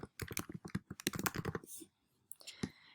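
A laptop keyboard clatters with rapid typing in a quiet room, a dense burst of key clicks, a short pause, then a few more taps.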